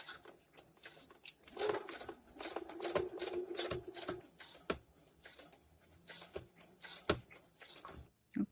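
A domestic sewing machine runs a back-and-forth stitch on a refashioned dress, giving a rapid, irregular mechanical clatter in short bursts with sharp clicks, close and moderately loud.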